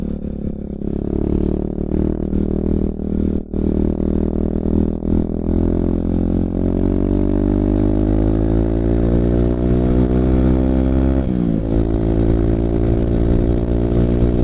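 A Kawasaki KLX 140 dirt bike engine roars loudly and continuously up close, its pitch climbing steadily as it revs higher.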